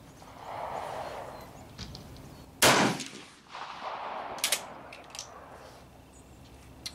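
A single sharp rifle shot cracks out loud and close at an outdoor shooting range, followed by a rolling echo, with quiet ambience around it.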